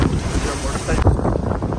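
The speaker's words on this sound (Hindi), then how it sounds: "इतनी तेज़ हवा चलती हुई और इतनी ज़्यादा आंधी देख रहा हूँ" Strong, roaring storm wind gusts in Sialkot batter the microphone in a loud, continuous rush with low rumbling buffeting.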